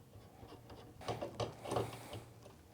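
A socket wrench removes the top bolts while installing a TRA DecoGuard on a 1-inch single lock, giving faint ratcheting clicks in short bursts, louder in the second half.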